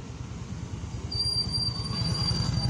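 An eastbound CFE mixed freight train carrying grain, rail and steel rolls past close by with a steady low rumble and a thin metallic wheel squeal above it.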